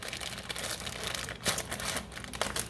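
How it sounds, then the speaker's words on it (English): A plastic zipper bag of raisins crinkles and rustles as it is handled close by, with steady, busy crackling throughout and a few sharper snaps, without talk. "you notice that I keep my raisins in a zipper bag"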